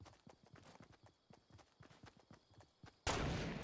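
Gunfire in a Fortnite battle royale fight: quick, distant-sounding shots rattle in an uneven stream, fairly faint, then a loud broad burst of noise cuts in near the end.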